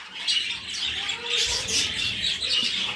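Pet parrot offered for sale chirping indoors, a run of close, bright chirps and short squawks repeating over a few seconds, with light rustling underneath.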